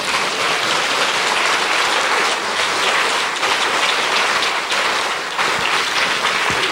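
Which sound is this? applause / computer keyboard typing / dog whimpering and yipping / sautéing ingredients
applause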